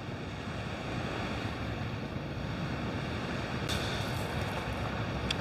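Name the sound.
waves on a beach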